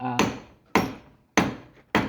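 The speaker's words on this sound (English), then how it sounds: "So this metal, once it's cooled like this, you can hammer it, and I'll just demonstrate." Cooled cast metal from a protea casting is hammered in four sharp, evenly spaced strikes, each a loud close ringing whack that quickly fades.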